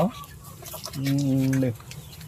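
A black Australorp rooster on a free-range native chicken farm gives a single drawn-out, tonal cluck-like call lasting under a second, close and fairly loud over quiet farmyard background.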